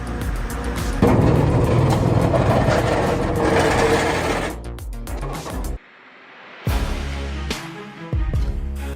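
Industrial crusher shredding waste, a dense grinding roar of machinery chewing material, then a sudden cut to near silence and a return of heavy mechanical rumble and clanks.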